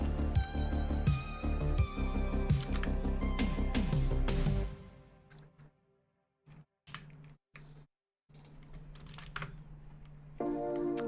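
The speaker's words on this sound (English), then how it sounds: "I really suck at typing today." Typing on a computer keyboard clicks steadily and close, at first over loud background music, then alone as rapid, uneven keystrokes with short pauses between bursts.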